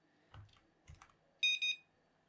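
A 433MHz home alarm controlled by a Raspberry Pi sounds two loud, short, high-pitched beeps in quick succession, following a couple of soft clicks and taps in a quiet room.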